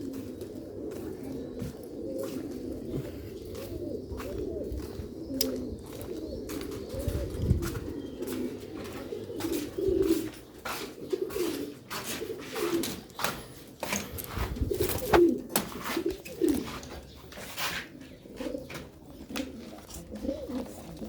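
Pigeons offered for sale coo steadily in a low, rolling chorus, several birds overlapping nearby, with occasional sharper chirps, wing flutters and clicks over a constant background hum.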